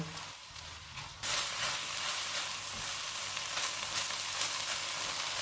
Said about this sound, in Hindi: चूल्हे को मीडियम कर देते हैं और इनको 3 से 4 मिनट तक भूनेंगे।